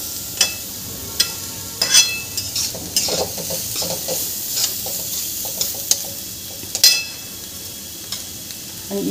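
Vegetables with black pepper are stir-fried in a pan for street-style veg fried rice. A bright, steady sizzle runs throughout, broken by repeated close clacks and scrapes of the spatula against the pan.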